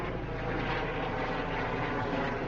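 Medical transport helicopter flying, a loud, steady, dense rotor and engine roar with a rapid pulsing texture throughout, close and continuous with no voices.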